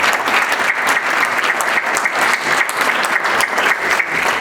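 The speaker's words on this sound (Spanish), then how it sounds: "Le damos un fuerte aplauso a todos" Steady, dense applause from a panel audience at a university economics event, loud and sustained throughout with no talking over it.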